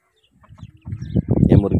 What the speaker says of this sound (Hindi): ये मुर्गियों के छोटे छोटे बच्चे हैं,